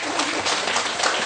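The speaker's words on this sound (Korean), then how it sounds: "박수 크게 한번 쳐야지." Audience at a Buddhist dharma talk in a temple hall breaks into dense, sustained applause, close and steady throughout, with no voices on top.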